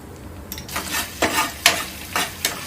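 A spoon stirs and mixes a sauce of soy sauce, red chili sauce and vinegar in a pan for crab lollipops, making several separate scraping strokes over a soft sizzle.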